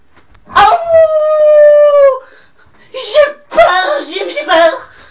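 Wolves howl in a forest-set horror film trailer, one long sustained howl followed by shorter wavering howls and yips, loud and close, with possible voice imitation.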